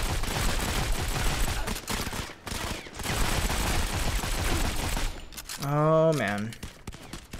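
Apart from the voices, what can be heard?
gunfire in the video game Modern Combat 5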